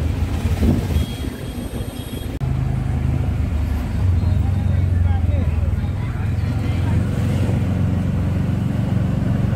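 Ride inside a moving auto-rickshaw, a steady loud engine drone and road rumble filling the whole stretch, with a brief bump of handling noise early on.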